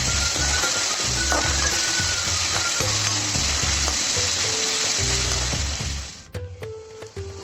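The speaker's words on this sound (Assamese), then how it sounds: "এই পিঁয়াজখিনি অলপ সময় ভাজি লৈছিল" Chopped onion sizzling in a hot pan, a dense continuous frying hiss with soft stirring knocks, no talking, fading toward the end.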